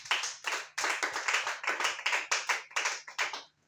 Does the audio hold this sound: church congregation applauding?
yes